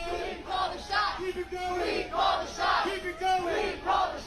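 A protest crowd outside the New York mayor's mansion chants "Our bodies, our choice" in unison, repeating it in a steady rhythm several times, loud and close.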